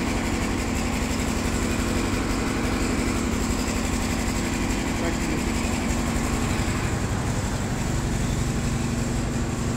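A Kawasaki Versys 650 motorcycle engine idles steadily and close by, a constant buzzing drone with a rhythmic low pulse throughout and no clear start.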